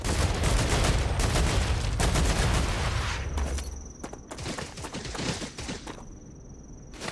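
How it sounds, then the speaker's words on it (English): Artillery fire in the sci-fi video game StarRupture: repeated loud, heavy blasts and crackling volleys, close and overlapping, easing into scattered thuds and a thin high whine. "I'm trying to find where, see where the artillery's coming from."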